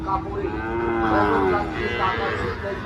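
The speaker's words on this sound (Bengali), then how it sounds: "যে জায়গায় প্রচুর পরিমাণে শাহিওয়াল ষাঁড় গরু আমদানি" Sahiwal bulls mooing loudly and repeatedly over a busy cattle market crowd murmur, with several animals lowing at once, some near and some farther off.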